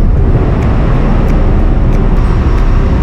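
Loud, steady engine and machinery rumble fills the car deck of the new ferry Bahtera Nusantara 3 on an Indonesian crossing from Sumatra to Kalimantan. The drone is continuous and close, with no voices.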